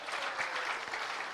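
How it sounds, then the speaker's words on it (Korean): A congregation claps during a church worship service, a short burst of steady applause at moderate distance with no speech over it. "박수"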